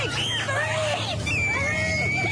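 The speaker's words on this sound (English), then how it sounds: "her scream like somebody's trying to kill her and not being able to get in" A girl screams in terror, shrill, wavering, drawn-out cries rising and falling over a muffled background, as if heard through a barrier, with faint other voices beneath.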